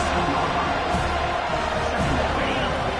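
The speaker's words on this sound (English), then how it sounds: "this crowd is turning it up a notch" A stadium crowd at a college football game, with Clemson playing, roars in a steady, loud, continuous wash of cheering throughout.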